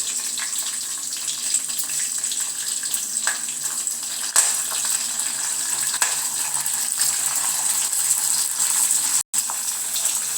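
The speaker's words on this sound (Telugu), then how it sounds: "నేను ఇప్పుడు కరివేపాకు, కొద్దిగా ఉల్లిపాయ వేసుకుంటున్నాను." Curry leaves and a little onion hit hot oil in a pan for an okra fry, raising a loud, continuous hissing sizzle with a couple of sharp clicks along the way.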